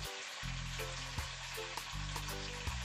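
A pan of Portuguese stew meat, heat turned up before deglazing with port, sizzles steadily and fairly quietly with a few light stirring taps and clinks, no talking.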